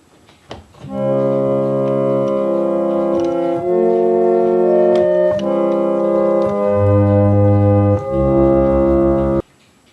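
An 1860 Prince reed organ plays notes and chords on its two 8-foot diapason stops in a steady sequence, sustained and reedy, each change clean and clear, with no talking.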